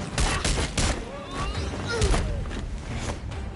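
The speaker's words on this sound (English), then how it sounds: "Enjoying the fireworks." Fireworks burst in a Gotham video game, a rapid string of sharp cracks and pops over rumbling thuds, with voices talking over the noise.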